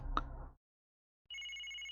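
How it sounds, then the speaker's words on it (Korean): A phone in a mobile dating-simulation game rings after a brief thump and a pause, a steady synthetic electronic tone that continues to the end. "다시 전화가 왔는데."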